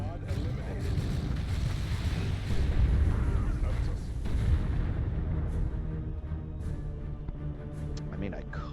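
Loud, dense battle noise from Dawn of War 2, with booming explosions and rapid gunfire over a sustained low rumble, peaking in the middle, while voices talk over the combat.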